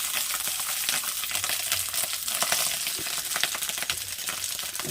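Rice spooned into a pot of biryani on a home stove, a steady sizzle and frying crackle running throughout with soft scattered clinks and stirring sounds, close and moderately loud with no talk.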